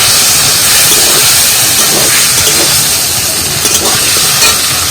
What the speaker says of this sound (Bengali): আর এইবার দিয়ে দেবো ভেজে রাখা ফুলকপি